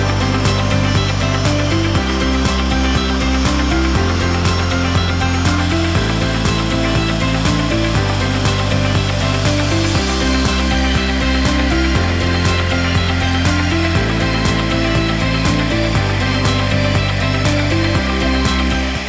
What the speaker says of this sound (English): When the machine starts, it will first draw the outer layer and then proceed from the bottom to the top.